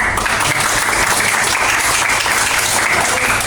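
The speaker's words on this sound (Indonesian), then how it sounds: "kita tepuk tangan dulu ya" Classroom applause during a teaching session, a steady, dense wash of many hands clapping together close by, filling the whole moment without a break.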